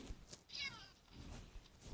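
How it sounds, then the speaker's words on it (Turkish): A cat meows in Minecraft PE 0.12.1, a short drawn-out mew rising in the middle of the clip, quiet and clear with light background noise. "Böyle kediler oluyor işte."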